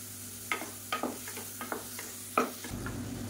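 Chopped tomato sautéing with salt in a pan for chicken soup: a steady low sizzle with a few distinct spoon-stirring scrapes, then a louder hum near the end.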